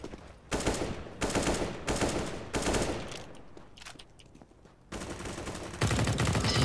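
Gunfire in CS:GO, with repeated bursts of rapid automatic shots in several sharp clusters and short gaps between, fairly close and loud, then heavier fire toward the end.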